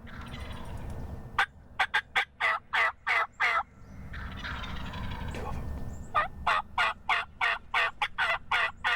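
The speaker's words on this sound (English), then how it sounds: "We started hearing these birds in the background, and they really started hammering, and they were coming closer and closer" Wild turkeys gobble in answer to a hunter's call, two long runs of loud, rapid, rattling gobbles separated by a brief pause, close by and unmasked by any talk.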